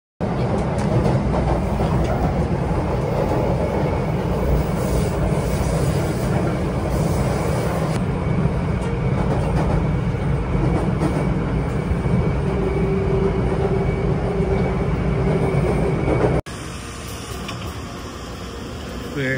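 A crowded Taipei MRT metro train running on a busy Monday morning, a loud steady rumble of rolling carriages and interior hum lasting throughout, with faint background chatter, then a sudden drop to a quieter level near the end.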